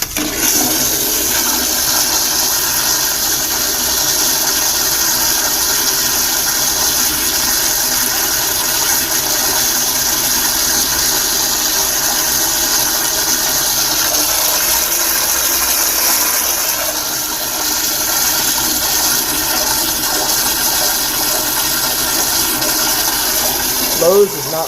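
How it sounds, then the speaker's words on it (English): A very long toilet flush at a Lowe's store, a loud, steady rushing of water roaring on without pause for nearly half a minute, close to the bowl. "Look how long this toilet flush is."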